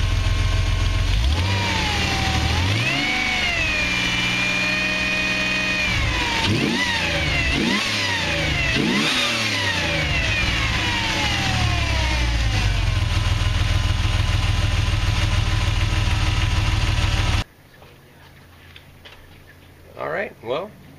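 Jeep 4.0 inline-six running after a roller rocker install, idling then revving up and down several times in close range, with a voice talking over it before the engine cuts off and quiet handling noises follow.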